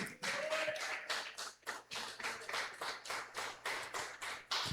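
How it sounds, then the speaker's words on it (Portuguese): A church congregation claps loudly and joyfully for Jesus during a Portuguese-language service, with strong irregular bursts of hand claps from many people under a low hum. "você pode mais uma vez aplaudir o Jesus com alegria, bem forte mesmo"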